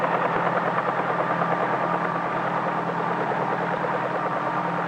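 A 1953-era helicopter's steady droning engine and rotor whir, continuous and even, with no voices.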